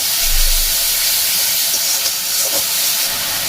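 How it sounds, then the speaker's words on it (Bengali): Ginger, garlic and onion paste sizzling in a frying pan, a loud steady hiss of frying that fills the whole stretch, with a brief low rumble near the start. "এখন এখানে আমি দিয়ে দিলাম একটুখানি আদা রসুন আর পেঁয়াজ বাটা।"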